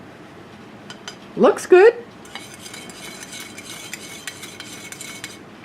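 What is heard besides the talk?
stirring MRE orange drink mix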